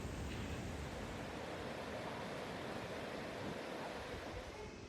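River water rushes steadily over a weir in Bath, England, making a continuous broadband roar with no breaks, heard from a riverside seat at moderate distance.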